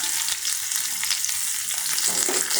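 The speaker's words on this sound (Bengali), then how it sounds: "এখন দিয়ে দিচ্ছি সাদা তেল, তারপর দিয়ে দিচ্ছি পেঁয়াজ কুচি" Chopped onion fries in white cooking oil with a loud, close, continuous sizzle and crackle, with occasional stirring scrapes through the hiss.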